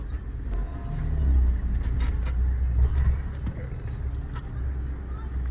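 Abarth Fiat car, base 135 variant, pulling away from a stop, with a low engine rumble building and fading in the cabin under people talking.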